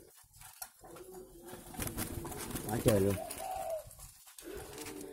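Spotted doves coo in soft repeated phrases behind a house, mid-distance and fairly quiet, mixed with other faint bird calls while a person speaks briefly over them.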